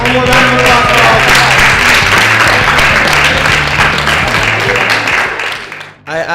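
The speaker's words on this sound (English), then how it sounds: "One more round of applause." A loud, full round of applause from a youth camp audience, dense clapping that holds steady and then drops away near the end, with a low musical hum underneath.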